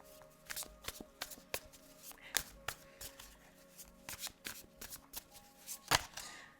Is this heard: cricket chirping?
no